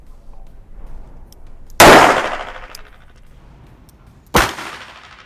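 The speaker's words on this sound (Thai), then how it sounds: "ต่อไปจะเป็นกระสุนปล่อยตัวนกกีฬา" Two sharp, loud cracks from a starter pistol firing blank rounds of the kind used to start athletes in a race, each bang ringing out with a fading tail, a few seconds apart.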